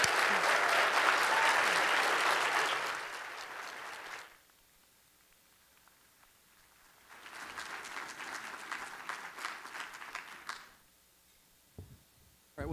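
Audience applause at an arts marketing conference keynote comes in two bursts: a full, sustained round of clapping, then a near-silent pause, then a second long round that fades out before a brief sound at the end.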